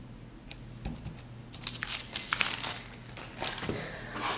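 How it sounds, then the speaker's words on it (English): The backing is peeled off a clear Merry Christmas craft stamp with soft crinkling and small sticky snaps, a few close, quiet bursts building toward the middle. "So I'm peeling off the backing, peeling off the stamp"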